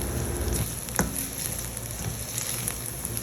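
Cubed chicken pieces hitting hot oil with chillies in a pan, giving a steady, close sizzle and crackle throughout with a brief sharper pop near the middle and no voices.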